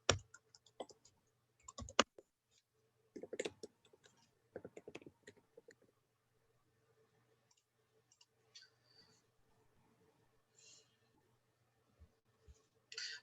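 Typing on a computer keyboard during a programming lab session: scattered quiet clicks and short bursts of rapid keystrokes separated by pauses, close but soft, with no talking.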